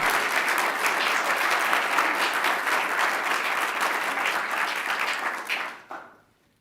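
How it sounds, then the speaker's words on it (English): An audience at a city council meeting in Norman gives a round of applause for city staff, steady dense clapping that fades out near the end, with no talk. "let's give one more round of applause to the hardest working staff in the city of Norman"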